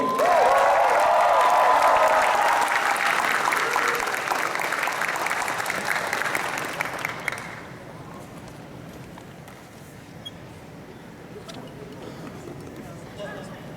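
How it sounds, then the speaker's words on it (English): Audience applause for performers at the Otakon 2017 opening ceremony, a loud, dense burst of clapping and cheering that fades out after about seven seconds, leaving quiet hall murmur. "Let's give one more round of applause for all of our amazing acts"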